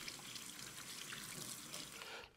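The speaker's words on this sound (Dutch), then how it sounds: "Even onder de kraan houden." Tap water runs steadily from a kitchen faucet while a vegetable is rinsed under it, a continuous close hiss and splash that stops abruptly at the end.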